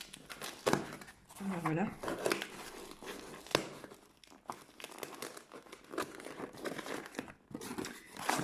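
Parcel packaging being torn and opened, crinkly plastic and paper rustling in irregular bursts, close and fairly quiet, while someone talks over it in French.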